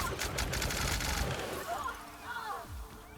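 Rapid automatic video game gunfire from a powerful gun rattles in a fast burst at the start, then fades out as other game effects and a voice come in.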